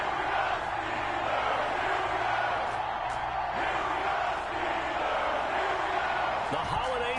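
A packed NFL stadium crowd at a Cleveland Browns versus Pittsburgh Steelers game roars in a steady, dense wash of cheering, with a voice talking over the noise.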